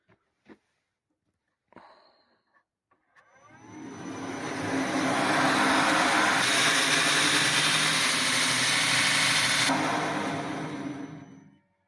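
A bench grinder throwing sparks starts from near silence, spins up into a loud, steady mechanical whine and roar, holds it for several seconds, then begins to wind down.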